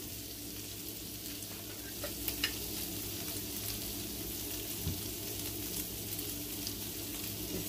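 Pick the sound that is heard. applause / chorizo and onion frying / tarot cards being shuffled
chorizo and onion frying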